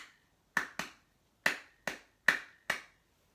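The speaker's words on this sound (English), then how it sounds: "I know that when I clap the rhythm, it sounds like this." Six sharp, close hand claps in an uneven grouping tap out the rhythm of a guitar strumming pattern, with short silences between them and no talking.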